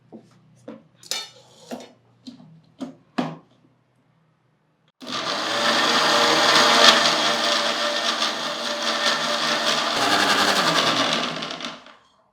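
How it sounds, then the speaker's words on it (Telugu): A few clunks and taps, then a mixer grinder blending juice whirs loudly and steadily for about seven seconds, churning and rattling before winding down. "మిక్సీ పట్టేసుకున్నాం"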